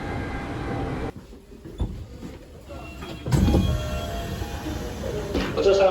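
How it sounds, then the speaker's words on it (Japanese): Interior rumble of a Tokyo Metro Tozai Line train slowing into Kasai terminal station, with rail noise, a brief quieter stretch, then a louder surge of clatter. "この列車は中野方面の2番線に到着です。"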